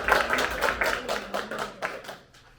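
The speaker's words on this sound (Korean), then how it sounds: "우리 인사하실 때 큰 박수 해주시고요" A church congregation claps together in a brief round of applause, a quick series of close, evenly spaced hand claps fading out after a few seconds.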